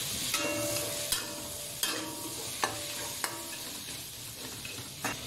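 Fried pork belly liempo sizzles in a pan with garlic, onion and tomato, a steady close frying hiss broken every second or so by sharp clacks of a spatula stirring, with no voices.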